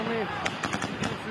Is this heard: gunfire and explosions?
yes